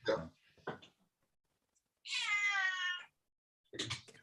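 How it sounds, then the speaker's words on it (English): A pet cat meows once, clear and fairly close, in a drawn-out call in a quiet room, with brief bits of voice before and after. "I was just enjoying the feline interruption or intervention, I should say"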